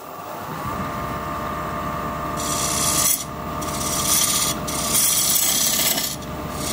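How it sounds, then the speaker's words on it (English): A diamond point tool cuts a wooden tenon on a spinning lathe, giving a steady close rasping scrape under the motor's hum that swells louder in bursts as the tool bites. "I'm going to use this diamond point tool to square up the sides of the tenon."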